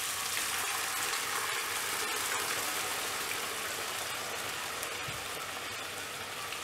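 Cooked chana dal added to a pan of sautéed onion, tomato and garlic, giving a steady soft sizzle and frying hiss, fairly quiet and continuous, with no talking.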